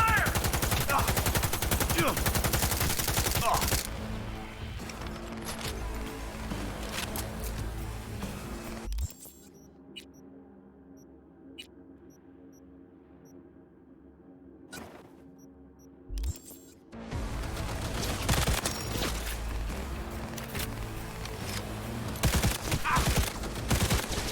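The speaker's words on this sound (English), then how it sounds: "Firing at close range! Fire! Fire!" Close-range gunfire in Cyberpunk 2077: loud, dense bursts of automatic fire and shots fill the opening seconds, drop out to a quieter lull with sparse clicks, then resume heavy and sustained to the end.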